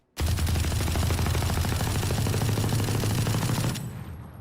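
A light machine gun in Valorant fires a continuous, loud automatic burst through a wall for about three and a half seconds, then cuts off into a short fading tail.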